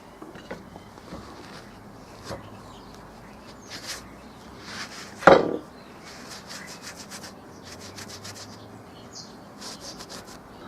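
Paper is rubbed off a wooden sign during an image transfer, giving soft, steady scrubbing strokes close by, with one louder burst partway through and no talking.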